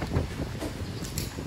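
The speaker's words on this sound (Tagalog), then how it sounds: "Taas ng hangin." Strong outdoor wind buffets the microphone at an airsoft practical shooting practice, a steady broadband rush filling the whole short moment with no speech.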